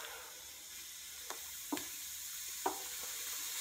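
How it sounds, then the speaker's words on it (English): Homemade tomato soup being stirred in a pan, a faint steady sizzle and hiss with three brief, soft scraping knocks of the spoon, close up and without speech. "what you're going to do is you're just going to stir it"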